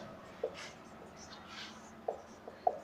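Chalk or a marker taps and strokes across a board during a Class 10 science lesson on parallel resistors, making sparse, faint writing scrapes and a few sharp clicks, with a voice faintly present.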